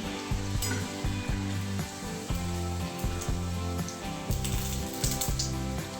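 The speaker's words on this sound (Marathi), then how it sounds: "छान तेल छान तापून द्यायचं त्याच्यानंतर त्याच्यामध्ये पुरी सोडायची" Spicy wheat flour puris fry in hot oil with a continuous crackling sizzle, heard close over steady background music and no speech.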